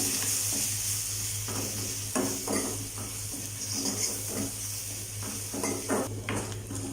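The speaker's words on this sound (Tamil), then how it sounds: "அரைச்ச மசாலா சேர்த்து 1 நிமிஷம் நல்லா வதக்குங்க." Ground masala paste sautéed in a pan for rasam, a steady sizzle with repeated stirring scrapes and knocks of the utensil against the pan, close and clear over a constant low hum.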